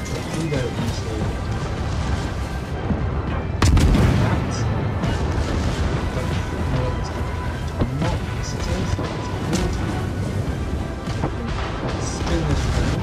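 Booming explosions and crashing impacts from torpedo and gunfire action in World of Warships, with one heavy blast standing out among repeated thuds and shots over a low rumble, while someone talks throughout.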